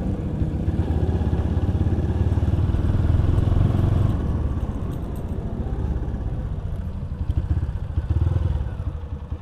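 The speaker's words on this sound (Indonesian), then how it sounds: "motor orang ini firing semua" Motorcycle engines idling and revving nearby, a loud rough rumbling that rises and dips over several seconds with clattering mechanical noise.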